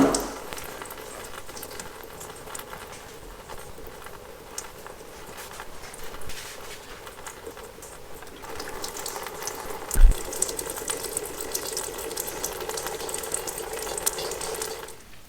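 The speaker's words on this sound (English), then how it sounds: "Let that sit there and drain until it stops draining fuel" Diesel fuel drains from the fuel filter housing of a 2.8 Duramax in a Chevy Colorado or GMC Canyon into a pan below, a steady close trickle and hiss with a sharp knock partway through, no talking.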